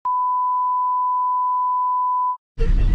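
A single loud, steady censor beep holds for over two seconds, then cuts off, followed by a short burst of outdoor noise at a beach in Shrivardhan.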